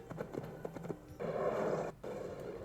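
Horse hooves galloping in the video game Assassin's Creed, a rapid clip-clop rhythm with a louder sustained burst midway, fairly close and clear, with no talking over it.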